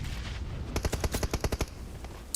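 A burst of gunfire in PUBG Mobile, about a dozen sharp, evenly spaced shots in quick succession over a low rumbling background, loud and fairly close.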